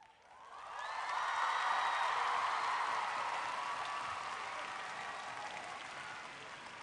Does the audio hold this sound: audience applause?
yes